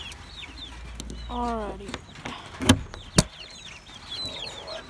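Chickens cluck and chirp softly in the background while a person speaks briefly and two sharp knocks or clanks ring out close by.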